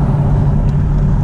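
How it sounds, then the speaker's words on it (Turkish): A car engine revs up loud and close, a steady low roar holding throughout without talk. "kayınbirader birazcık gazı gıdıkladı"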